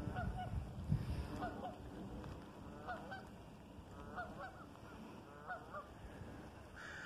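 Local geese honk repeatedly at Detroit Lake on the Santiam arm near Osprey Point during rain, several moderately distant calls in irregular bursts over a steady wet background hiss.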